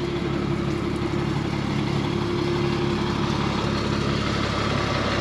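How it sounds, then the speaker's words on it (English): Steady low rumble of a nearby Cummins diesel engine idling in a 2002 Monaco Knight Class A motorhome, continuous and moderately loud, with no talking. "I got the diesel running right beside me"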